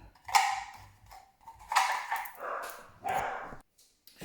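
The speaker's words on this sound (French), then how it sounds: "mes chiens se sont mis à crier. C'était pas sympathique pour vos oreilles." Several dogs bark indoors in a home craft room, a few sharp, loud yelps and barks in separate bursts that are close and harsh, with no talking over them.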